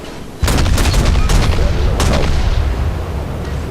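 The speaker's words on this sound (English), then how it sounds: "The guns are really quick." In World of Warships, the tier IV Russian destroyer Izyaslav fires its guns in quick succession: loud, booming naval cannon blasts over a constant rumbling sea and engine bed.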